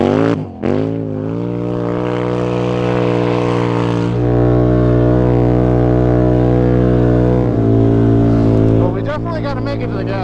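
A Scrambler 1000 motorcycle engine climbs up a ditch in winter, its strongly tonal note revving and rising in pitch, loud and close, with a brief dip early and rougher fluttering toward the end.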